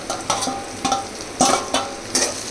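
Onions and curry leaves sauté in a hot pan for a chicken gravy, a steady close sizzle broken by several sharp scraping stirs at a fairly regular pace.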